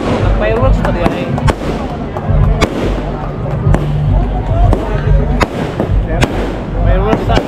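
Fireworks pop and crackle at the start of a marathon, with repeated sharp bursts among a noisy crowd of cheering and talking voices.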